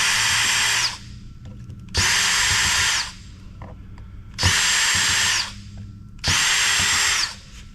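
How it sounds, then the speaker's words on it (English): A power drill with a Torx bit whirs in four short bursts of about a second each while taking apart e-waste drives, separated by brief pauses with faint clicks and handling noise. "I have a drill preloaded with a Torx head for this."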